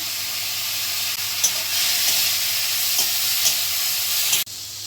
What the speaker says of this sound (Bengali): গাজরটা ভালো করে একটু ভেজে নেব। এবার দেব বরবটি, ক্যাপসিকাম